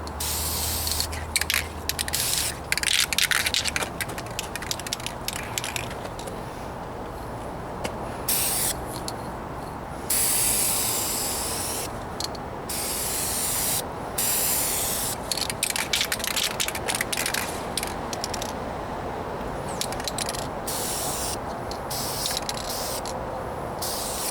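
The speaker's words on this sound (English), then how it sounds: "Some light coats here." A rattle can sprays light coats of paint onto the rear bumper of a 1998 Toyota Corolla outdoors in a breeze, a series of short and longer hissing bursts separated by brief pauses.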